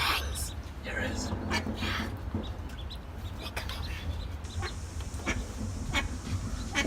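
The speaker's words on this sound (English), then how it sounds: "There's some little ducklings." Little ducklings call with small high chirps and peeps over steady outdoor background noise, with people talking nearby.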